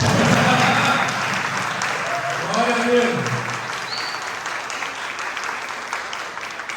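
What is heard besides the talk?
church congregation applause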